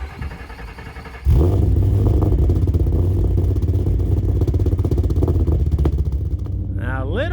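A supercharged Lamborghini engine from a salvage auction cranks and catches after about a second, settling into a loud, uneven rough idle with clattering mechanical noise; a voice speaks briefly near the end.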